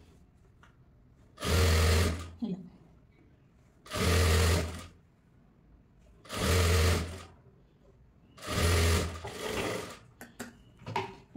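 An electric sewing machine stitches a folded frill on a cloth frock in four loud, even bursts of whirring, each about a second long with pauses between, and a few light clicks at the end.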